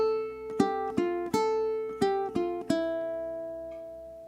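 A ukulele plucks single notes of a flamenco song, about seven distinct picked notes in an uneven rhythm, played close and clear, with the last note ringing out and fading.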